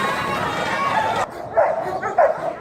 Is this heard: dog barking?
yes